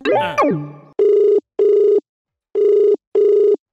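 An outgoing phone call: a short electronic chime sweeps down, then the ringback tone sounds in two pairs of loud, even buzzing rings separated by a silent pause.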